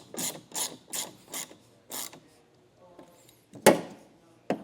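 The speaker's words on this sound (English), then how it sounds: "then we can snug down and torque each one of our bolts" A ratchet tightens the bolts on a Westin EXP truck topper fitted to a 2025 Ford Maverick, with five rapid rasping bursts close by, then quieter clicks and a couple of sharp metallic knocks.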